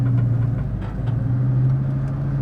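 A 1965 Mustang fitted with a V10 engine drives under throttle, giving a steady low, droning engine hum heard from inside the car with no talk over it.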